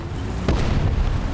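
A tank's ammunition cooks off in the War Thunder video game, one heavy muffled boom bursting midway through a short clip over constant loud low battle rumble.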